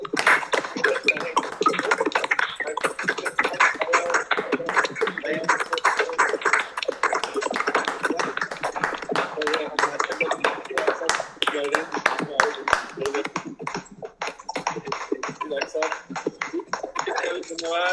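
Scattered online audience applause at the close of a Hindi talk on cancer basics, sharp uneven claps continuing for many seconds, thinning toward the end, with talking faintly present.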